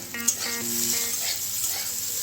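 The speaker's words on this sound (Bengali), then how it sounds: "পোস্ত দিয়ে আর একটু ভেজে নেবো" Ivy gourd pieces frying in a pan with whole poppy seeds, giving a steady, close hiss of sizzling oil that runs throughout, with a few brief tonal sounds near the start.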